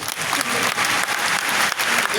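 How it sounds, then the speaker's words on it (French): An audience at an investment talk about the stock exchange breaks into applause, a dense, steady wash of many hands clapping close by for the whole stretch. "Là, vous devez applaudir quand même."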